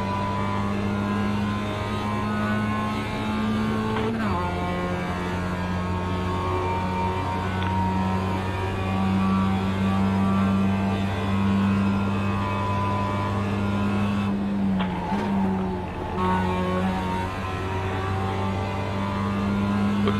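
A race car engine in a video game drones steadily on the Roval circuit, with a loud, sustained engine tone that shifts pitch briefly with gear changes and throttle lifts. No one speaks.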